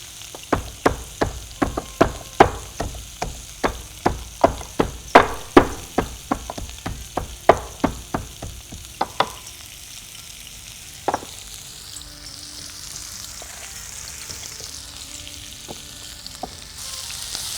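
Onions and garlic sizzle in a hot pan as a cook stirs them, with a quick run of sharp clattering scrapes of a spoon against the pan, then a steady soft sizzle that goes on alone.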